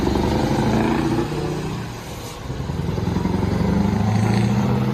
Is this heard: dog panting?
no